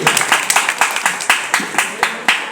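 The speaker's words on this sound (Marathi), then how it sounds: "एकदा जोरदार टाळ्या वाजवा ह्यांच्यासाठी" An audience claps loudly and close in a steady rhythmic beat, about four claps a second, with a voice talking over it.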